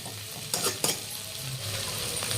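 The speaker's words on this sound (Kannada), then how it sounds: "ಇದನ್ನ ಒಂದ್ ನಿಮಿಷಗಳ ಕಾಲ ಚಲೋತ್ನಾಗಿ ಲೋ ಫ್ಲೇಮ್ ಒಳಗೆ ಈ ತರ ಮಿಕ್ಸ್ ಮಾಡ್ಕೊಂತಾನೆ ಬೇಯಿಸ್ಕೊಳ್ಳ್ರಿ" Grated coconut being stirred and cooked in a pan over a low flame, a soft steady sizzle with a couple of distinct scraping strokes of the spoon early on, close and unaccompanied by talk.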